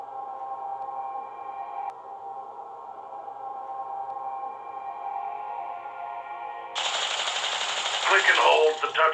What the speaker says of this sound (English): Click and hold the touchpad to fire your turret's weapon.